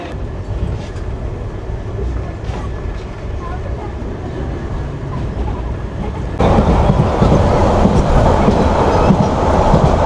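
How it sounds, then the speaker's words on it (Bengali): Saikat Express passenger train running at speed on the Chattogram–Cox's Bazar line near Harbang station, a steady loud rumble and rattle that swells even louder partway through, with no talk. "দুর্দান্ত গতিতে আমাদের সৈকত এক্সপ্রেস ট্রেন ছুটে চলছে।"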